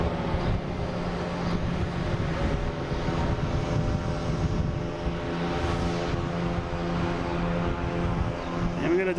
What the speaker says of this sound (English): Delta taking off. It's going to be heading to JFK in E175, flight 5814.